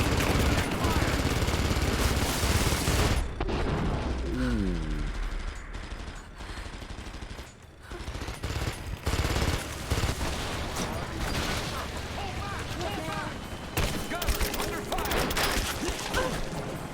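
Dense gunfire in the video game Rise of the Tomb Raider, loud and sustained with rapid overlapping shots and bursts across the whole stretch, a short lull near the middle, while a voice speaks over it.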